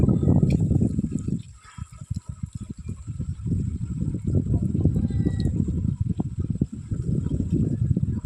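Water splashing and gurgling steadily as it is poured onto urea fertilizer in a container, dissolving it, close and fairly loud with a brief lull early on.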